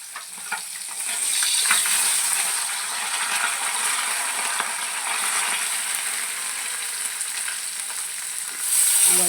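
Pabda fish frying lightly in oil in a pan, a continuous bright sizzle that swells after the first second and holds steady, close by, with faint crackles and no voices.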